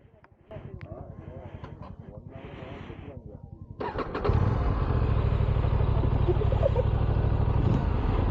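A Mahindra Arjun tractor's diesel engine cranks and turns over while a person talks, then catches and roars into a loud, steady, chugging idle that dominates the rest.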